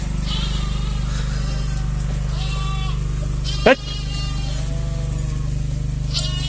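Several sheep and lambs bleat repeatedly over a loud, constant engine-like hum, with a sharp clunk partway through.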